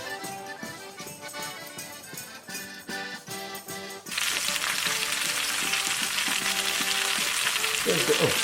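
Garlic dropped into a hot pan for a creamy courgette pasta breaks into a loud, steady sizzle that starts abruptly partway through and continues to the end, following a quieter stretch with soft background music.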